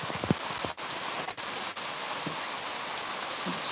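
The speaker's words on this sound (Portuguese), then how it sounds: "a chuva chegou" Heavy rain falls steadily during a storm, a dense continuous hiss of drops on surfaces, fairly near and even, with a few brief low knocks early on and no talking.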